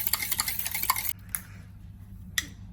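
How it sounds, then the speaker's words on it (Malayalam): Eggs being beaten in a bowl for Bombay toast, a rapid scraping whisk-and-clink rhythm for about a second, then a pause broken by a couple of isolated taps. "മുട്ട നല്ലതുപോലെ കടഞ്ഞെടുക്കണം"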